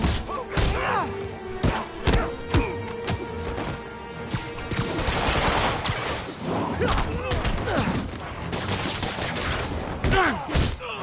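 Repeated gunfire from enemies in Spider-Man PS4, sharp cracks and thuds bursting irregularly throughout, mixed with impacts and crashes while voices shout over the action.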